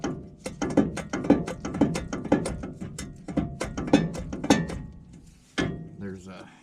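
Ratchet clicking in quick repeated bursts while brake parts are removed from the front wheel hub of a 1973 Chevrolet K10 pickup, close and loud, with brief pauses, a short clunk near the end and faint talk mixed in.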